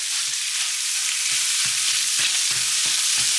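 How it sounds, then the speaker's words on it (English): Ingredients for a keto corned beef and bacon bake sizzle in a hot pan, a loud steady frying hiss with soft periodic stirring scrapes and no talking. "start frying this until it's nicely all melted"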